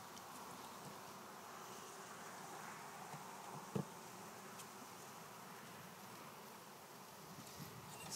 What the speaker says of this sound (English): Lots of bees